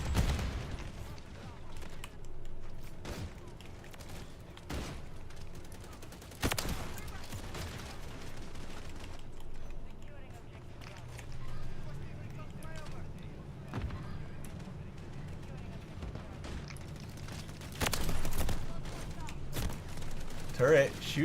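Automated turret in a multiplayer video game firing at rushing enemies, scattered sharp gunshot bursts and volleys of varied loudness over a background of game noise, with a person talking at times.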